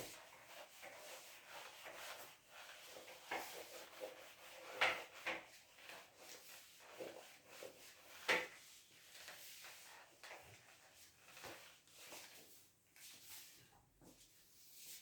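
A classroom board is erased during a lecture, heard as repeated dry rubbing and wiping strokes in an irregular rhythm with a couple of sharper knocks, moderately close, with no talking.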